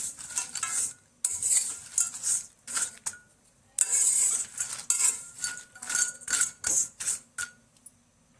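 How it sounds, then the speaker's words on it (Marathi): Cinnamon bark is dry roasted in a kadai while a metal spoon stirs and scrapes against the pan in repeated bursts, with brief pauses between strokes and no talking. "दालचिनी छान अशी भाजून घेऊ आपण"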